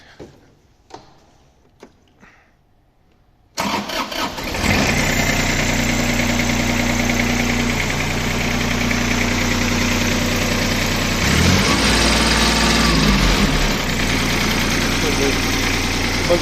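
Iseki SIAL223 22 hp Japanese mini tractor engine, cold, cranking over and catching, then settling into a loud, steady diesel idle with a slight knock and one brief rev, after a few faint clicks.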